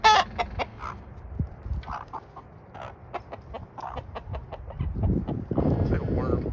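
Chickens cluck in short repeated bursts nearby, with scattered pecking and rustling and a fuller noise rising near the end.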